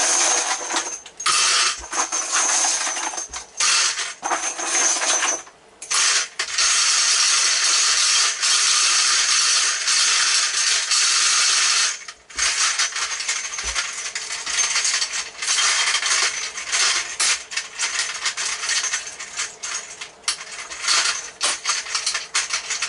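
Brass cartridge cases pour and rattle into a Lee Loadmaster case feeder, a dense continuous metallic clatter with a few brief pauses, loud and close throughout.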